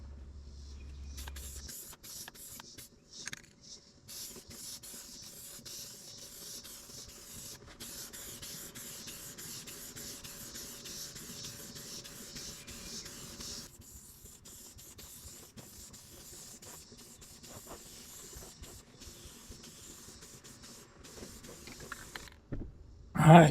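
Spray paint hisses in steady, close bursts for about twenty seconds as a second coat goes onto the rear plastics of a Yamaha Blaster ATV, with brief pauses and a sharper clatter at the end.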